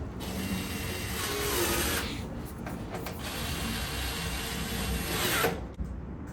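Screwdriver fitted with a 1/4-inch bit driving screws into a Whirlpool gas dryer during reassembly, a continuous close whirring and ratcheting drive with a brief pause midway, then resuming before stopping near the end, no talking.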